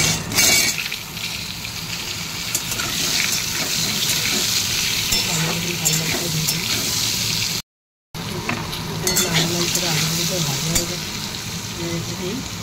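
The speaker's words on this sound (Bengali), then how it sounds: "এবার এখানে তেল গরম হয়ে গেছে, জিরে দিয়ে তেজপাতা, আলু" Cumin, bay leaf and potatoes frying in hot oil, a loud continuous sizzle and crackle with stirring throughout, briefly cutting out in the middle before resuming.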